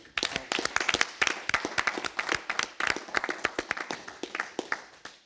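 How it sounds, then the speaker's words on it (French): Audience applause at a French Judo Federation awards ceremony, honoring a 7th dan: a steady, dense burst of many hands clapping close by, sharp and rhythmic throughout, with no speech over it. "On peut tous applaudir ce 7e dan, Maurice Guyon."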